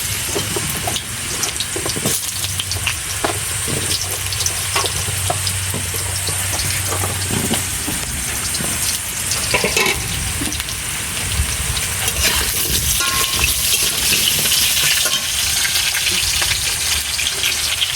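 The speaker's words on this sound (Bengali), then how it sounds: "তেলটা গরম হয়ে গেছে আলুটা দিয়ে দিই" Potatoes hit hot mustard oil in a wok and fry with a loud, continuous sizzle and crackle that stays dense and close throughout, with a low hum early on.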